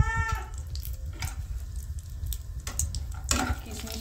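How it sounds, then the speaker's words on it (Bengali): Raisins frying in oil in a pan over low-to-medium gas after cashews, a steady soft sizzle with occasional stirring scrapes and light clatter, close and continuous. "কিশমিশটা আমি লাল করে ভেজে নেব।"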